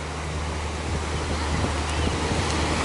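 Sea waves washing onto the sandy shoreline at Miami Beach, Florida, a steady broadband surf wash with wind buffeting the microphone, continuous and fairly close, with faint voices in the background.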